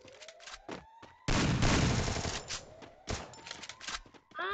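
Thompson submachine gun firing in the video game Free Fire, heard as loud, close bursts of rapid automatic fire with short gaps, mixed with game effects and a faint voice.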